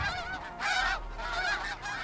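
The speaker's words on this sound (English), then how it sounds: "we've got some incoming geese" Snow geese honking over a shore during a goose hunt, a dense flock calling in repeated overlapping bursts, loud and fairly close.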